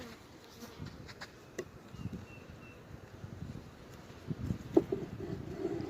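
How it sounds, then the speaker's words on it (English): Honey bees buzz around an open hive during a hive split on an overcast, windy day, a dense, close swarm hum with scattered louder passes and light wind noise. "There's a bee that came from the bee tree right there."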